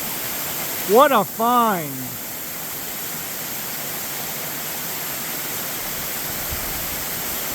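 A multi-drop waterfall at Aqueduct Falls pours in a constant, dense rushing roar that holds steady the whole time, with a short spoken exclamation near the start.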